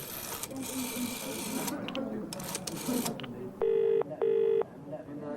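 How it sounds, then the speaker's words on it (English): A telephone number is dialed in a rapid string of clicks and tones under background noise, then two long, evenly spaced ringing tones sound loud and clear. "I dialed the number."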